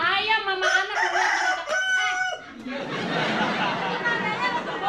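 Fighting roosters crow nearby in a few loud, drawn-out calls, followed by a busy wash of clucking and chatter with voices mixed in.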